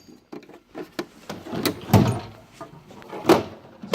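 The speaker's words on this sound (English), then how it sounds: "This is my hammer drawer." A mechanic's toolbox drawer holding hammers slides open with a string of metallic knocks, rattles and clunks, close and moderately loud.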